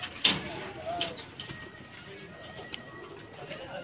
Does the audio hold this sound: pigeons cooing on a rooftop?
yes